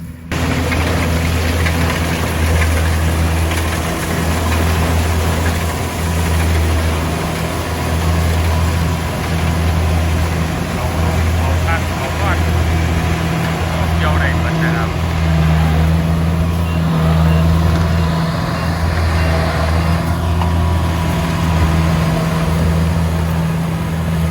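A Kubota DC-70 Pro combine harvester engine runs steadily at a constant, loud, low drone throughout, with a voice faintly present beneath it.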